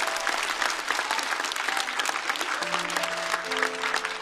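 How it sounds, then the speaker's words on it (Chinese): A stand-up comedy audience applauds steadily in a show hall, a dense continuous clapping wash throughout with a faint tonal hum entering partway through. "再次掌声送给姜子浩"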